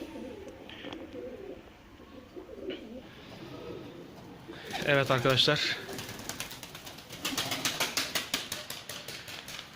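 Pigeons coo softly in the background, with a few wing flutters and rustles, as someone speaks briefly close by.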